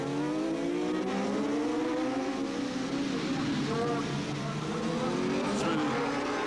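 Racing motorcycles in a British Championship race brake into a hairpin, their engines droning loudly and continuously with shifting, overlapping pitches as the bikes slow for the corner.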